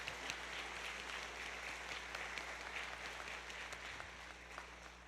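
Faint, even applause from an audience honouring the funders of an arts exhibition, a soft continuous patter of many hands with no voices breaking through.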